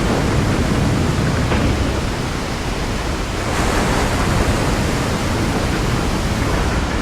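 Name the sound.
waterfall in video game Resident Evil 4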